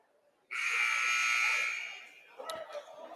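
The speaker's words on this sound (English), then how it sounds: "as the buzzer sounds to start the second quarter" A loud, sustained electronic buzzer starting the second quarter of a men's high school basketball championship game blares for about two seconds, then fades into arena crowd noise and scattered voices.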